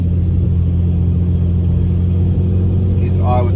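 A Ford Falcon with a new Pulsar turbo cruises along, its steady low engine drone and road rumble loud and close, with a faint rising whine near the end and someone talking over it.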